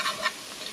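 A butter and flour roux cooking in a pan, with a faint hiss and a few quick soft stirring or scraping strokes over a brief moment.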